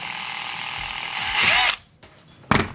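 A power drill bores a hole through cardboard for a model of the Among Us Skeld map, a loud steady whine that builds, cuts off sharply, then returns as a brief burst near the end.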